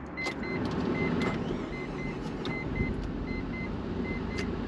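A right-hand-drive TVR sports car idles with a steady low engine rumble, close and fairly loud, while a faint repeating electronic chime sounds over it.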